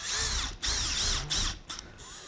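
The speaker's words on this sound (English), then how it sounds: "I can kind of adjust where I'm drilling, go in another inch." Power drill boring into a lamp, three strong whining bursts of the motor spinning up and down with short pauses, then a brief fainter spurt and a steady lighter whir at the end, close and loud.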